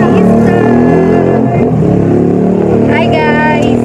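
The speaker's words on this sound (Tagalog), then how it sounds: "At ngayon naka-tricycle nga po tayo" A motorized tricycle engine drones loudly and continuously close by during a ride, with a brief rev near the end and voices talking over it.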